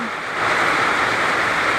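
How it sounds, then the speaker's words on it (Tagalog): Heavy rain pours down in a dense, steady hiss that swells and holds loud and unbroken throughout, with no voices. "naabutan pa ako ng malakas na ulan at nakisilong muna pansamantala upang ipabalita at ating pakiramdaman ang lakas ng ulan"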